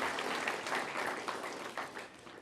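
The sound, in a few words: conference audience applause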